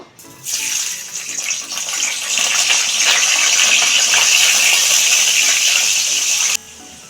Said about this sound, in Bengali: দেখুন ডিম ভাজা তেলে এখন আমি আলুটা বেঁধে নিব